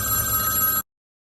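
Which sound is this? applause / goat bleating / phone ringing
phone ringing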